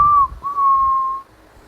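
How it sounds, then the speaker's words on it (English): Two clear whistled tones, a short one and then a longer sustained note, sound alone as an eerie whistling effect. "That whistle"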